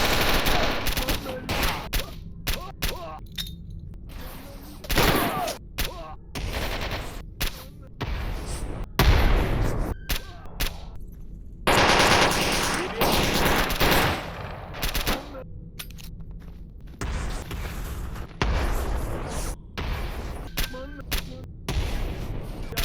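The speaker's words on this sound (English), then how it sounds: "you're sticking to any piece of cover while you take pop shots at your enemy" Rapid bursts of combat gunfire from S.T.A.L.K.E.R. Anomaly, with sharp shots and fusillades popping repeatedly and loudly over several seconds, some brief gaps between volleys.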